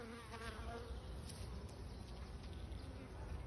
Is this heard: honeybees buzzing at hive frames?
yes